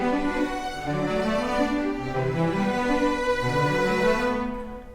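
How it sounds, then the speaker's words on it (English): Untreated sampled bowed strings from the Syberia soundtrack play a smooth, rolling arpeggio pattern, notes rising and falling in a steady cycle, soft and synthetic-sounding before fading at the end. "An untreated string arpeggio sounds like this."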